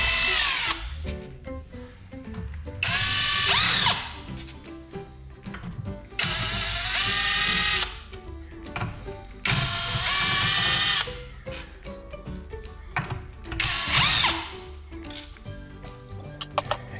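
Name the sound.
power tool removing crankcase cover bolts on Briggs & Stratton engine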